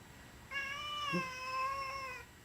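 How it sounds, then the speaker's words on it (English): A house cat inside a converted shuttle bus RV gives one drawn-out, wavering meow lasting nearly two seconds, close and clear over a quiet background. "Buddy, what's the matter, kitty?"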